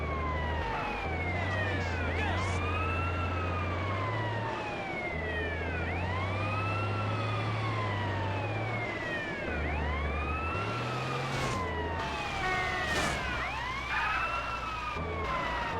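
A fire truck siren in the game GTA San Andreas wails continuously in rising and falling sweeps, loud and steady over a low engine drone, with a brief change in pitch near the end.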